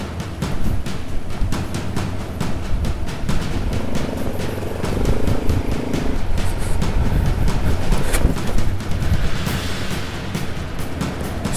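Heavy motorcycle laboring up a steep, slippery muddy slope on a rough rural road, its engine roaring loud and steady throughout with shifting revs and scraping, no talking.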